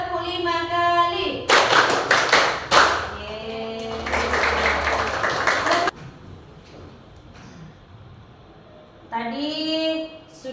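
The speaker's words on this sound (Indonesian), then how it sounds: "Tepuk 1 kali, tepuk 2 kali, tepuk 3 kali, tepuk 5 kali." A group doing a counting clap icebreaker, with bursts of dense, close hand clapping alternating with chanted voices calling out between rounds.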